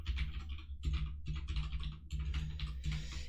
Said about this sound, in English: Having an extraordinarily difficult time typing tonight.